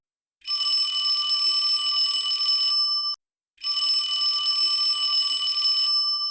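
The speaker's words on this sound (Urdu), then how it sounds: "الارم بجتا رہا" An alarm clock rings in two long, continuous metallic bursts of about three seconds each, separated by a short pause, loud and shrill with no voices.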